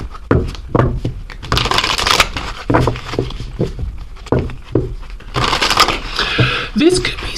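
Oracle cards are shuffled close up in repeated riffling, rustling bursts, with a voice talking at times over the card noise.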